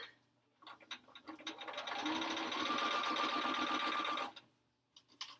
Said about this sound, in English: I want to get sewing.